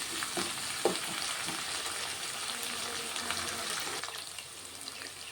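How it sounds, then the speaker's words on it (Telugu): Fenugreek leaves, green chillies and broad beans frying in oil, a steady close sizzle with the scrape of stirring and no voices. "ఇదంతా కొంచెం నూనెలో కొంచెం ఫ్రై అయిపోవాలి."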